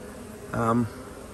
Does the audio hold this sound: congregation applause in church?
no